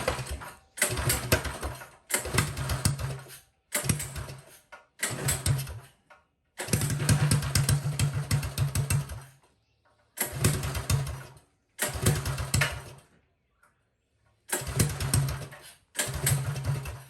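A stock Coleman 196 mini bike engine, its throttle cable not yet hooked up, is pulled over in repeated close, loud bursts that sputter and catch briefly, then die between attempts, with near-silent gaps in between.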